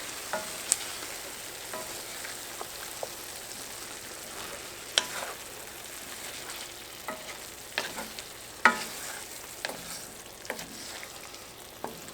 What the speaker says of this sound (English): And just stir to get it all combined.